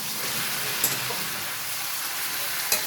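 Chicken pieces sizzling steadily in a pan while being stirred, a loud continuous frying hiss with a couple of sharp scrape clicks from the utensil.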